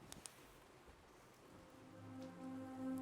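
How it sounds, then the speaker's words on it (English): Steady patter of rain falling on a forest, soft and continuous, with a faint tonal hum rising toward the end. "Wish it wasn't raining."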